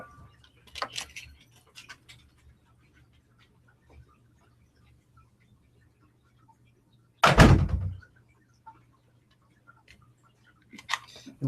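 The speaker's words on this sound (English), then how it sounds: "I'm going to close my door." A door swings shut with a single firm thud in a quiet room, with a few faint clicks and rustles before and after.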